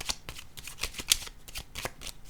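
A tarot card is laid down during a reading, heard as a run of soft papery card slides and flicks, with one sharper snap near the middle, close and fairly quiet with no talking.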